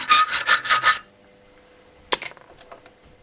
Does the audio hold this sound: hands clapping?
no